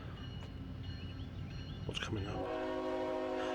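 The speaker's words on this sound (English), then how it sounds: "It's CSX 3393. This is a coal train out of Chattanooga." CSX coal train out of Chattanooga approaching near a river bridge, with rail rumble building and a loud sustained horn blast taking over in the last second, over a man's brief question.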